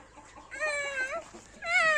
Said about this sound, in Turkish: tavuklar da böyle bir şey görmedi kaçıyorlar